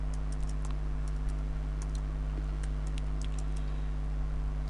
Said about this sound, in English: Then let's go ahead and type 51st anniversary.